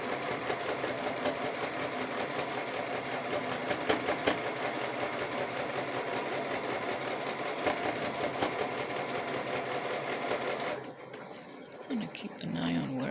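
A sewing machine stitches folded fabric for about eleven seconds, a steady close mechanical whir that stops abruptly near the end, with a few soft handling noises after it.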